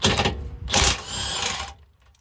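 Power tool spinning off 21 mm bolts from the frame of a 2025 Jeep Gladiator during a Curt trailer hitch install, two loud whirring bursts close by with a short gap between them, then quiet.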